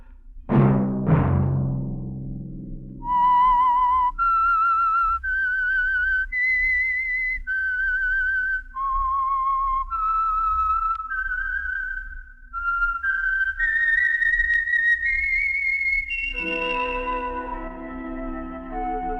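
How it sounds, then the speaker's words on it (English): A whistled theme melody for The Whistler radio drama, sponsored by Signal Oil: a clear, sustained solo whistle stepping through a slow, wavering tune with long held notes, following a brief low rumble at the start, with no talking. "Let that whistle be your signal for the Signal Oil program, The Whistler"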